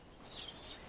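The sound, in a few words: birds chirping outdoors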